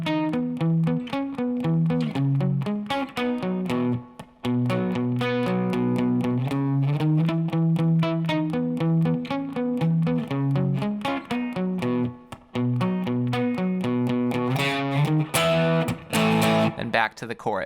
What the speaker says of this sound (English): there's this arpeggiated guitar part that sounds like this